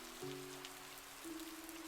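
A steady rain patters on an umbrella canopy overhead, a soft continuous hiss with light scattered drops, faint and even, accompanied by quiet sustained music tones.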